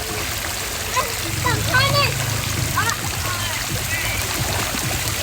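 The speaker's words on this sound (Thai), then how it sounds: "มีตังจะสไลเดอร์โชว์ในบ่อโคลนนะครับ" Splashing and trickling water as a person slides into a muddy pond, with excited voices and children calling out over the watery sounds.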